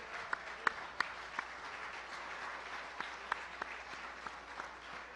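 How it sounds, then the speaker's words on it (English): Steady applause from a large audience at a gala banquet, a dense wash of clapping with a few sharper, louder claps standing out now and then. "another round of applause"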